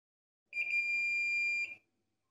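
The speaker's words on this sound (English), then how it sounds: "you simply measure with your probes on the cables until you hear a beeping sound" A single steady electronic multimeter continuity beep from probes on stepper motor cables, high-pitched and clean, lasting just over a second before cutting off into silence.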